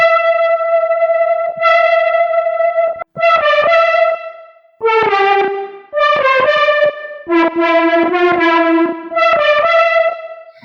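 A bright, buzzy Serum synth lead plays a sequence of sustained notes with a thick, slightly detuned, wavering tone and a touch of echo, loud and alone.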